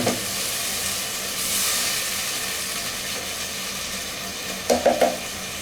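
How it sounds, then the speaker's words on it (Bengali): Tomatoes for chole cook in a pan with a little water, giving a soft, steady sizzle and hiss with a brief swell, then a few quick clattering knocks of a utensil near the end, close and unspoken. "ঢেকে দিয়ে এটাকে ভুনবো"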